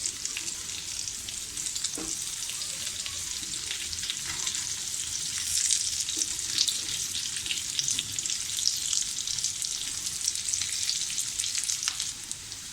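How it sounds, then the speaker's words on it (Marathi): Poha and potato cutlets pan-frying until golden brown, giving a steady close crackling sizzle with bright spitting pops that stays even throughout and has no speech. "दुसऱ्या बाजूने सुद्धा आपण असंच खरपूस भाजून घेऊया"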